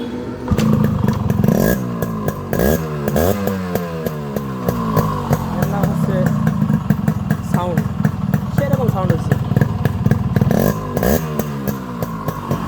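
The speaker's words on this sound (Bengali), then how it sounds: "স্টারটা আরেকবার দিয়ে আপনাদের শোনায় আমি ভিডিওটি শেষ করবো" A modified Yamaha RX 100 motorcycle engine runs loud and close, rising and falling through repeated revs with a rattling, buzzy tone.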